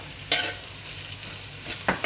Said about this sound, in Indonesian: kita masukin daun bawang sama saus sambalnya